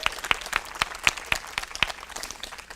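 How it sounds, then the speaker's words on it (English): A small group applauds school district central services staff at a press conference, with light, fairly even claps at a steady pace and no talking. "let's give all of our central services staff a round of applause"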